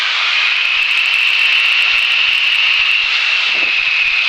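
Loud, steady drone of a Nanchang CJ-6 aircraft engine during aerobatics, with a continuous rushing whine inside the cockpit and a brief low thump near the end.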